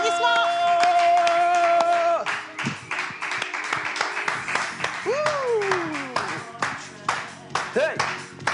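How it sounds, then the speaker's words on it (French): Applause and scattered claps rise as a guest walks onto a stage, starting under a sustained musical tone and then continuing in uneven bursts alongside excited voices and calls. "Elle arrive avec des applaudissements."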